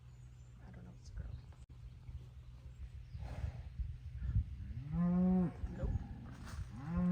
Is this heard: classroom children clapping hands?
no